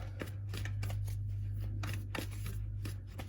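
Oracle cards from a Tao deck riffle and slap together in a steady run of soft, papery bursts, close by, over a constant low hum.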